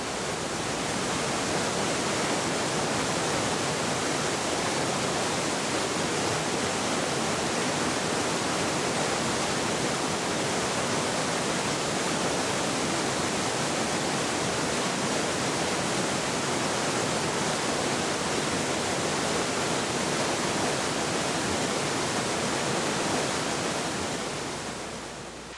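A steady, loud rush of flowing river water fills the scene without break, a broad even roar with no voices or other distinct sounds on top.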